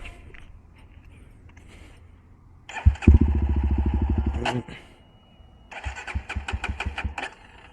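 A Jawa Bobber 42 motorcycle that won't start: an electric starter cranks loudly in one long burst, pauses, then cranks again in a shorter burst with rapid rhythmic pulses, with no engine catching and quiet background between attempts.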